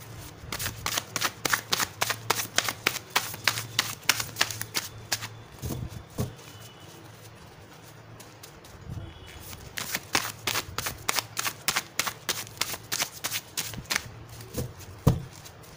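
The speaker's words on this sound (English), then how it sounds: "I use some message of love oracle cards" Message of love oracle cards are shuffled in quick, crisp riffling bursts, a rapid run, a short quiet gap, then another steady run of shuffling close by with no talking.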